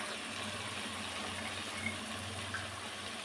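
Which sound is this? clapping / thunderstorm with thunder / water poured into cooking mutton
water poured into cooking mutton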